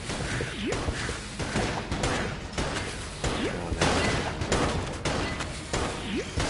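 Dense bullet fire in the video game Enter the Gungeon, rapid overlapping shots and whooshing projectiles with crashes and thuds, loud and continuous throughout with no talking.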